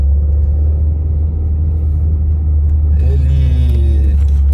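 A two-door Fiat Tempra's engine rumbles low and steady, then revs up with a rising whine as the car pulls away from a standstill and gains speed.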